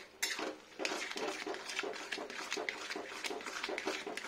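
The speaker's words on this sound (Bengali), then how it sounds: "একটু ভালো করে ঘুরিয়ে নেবো স্লো টেম্পারেচারে" A spoon scrapes and clinks steadily against a metal pan while gourd and poppy seed paste is stirred on low heat, a close, rhythmic series of light knocks and scrapes with no talking.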